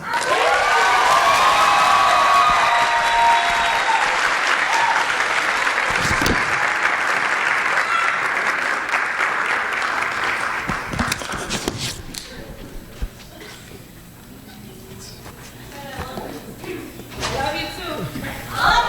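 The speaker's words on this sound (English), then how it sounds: "Can we give another round of applause for Ms. Minaya?" A school audience at a Hispanic Heritage Month celebration breaks into loud, sustained applause with cheering and whoops, the dense clapping filling the room before thinning out into scattered claps and crowd noise.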